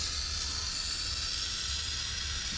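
Steady, continuous hiss of WD-40 sprayed from an aerosol can onto farm machinery during soybean harvest, loud and unbroken throughout.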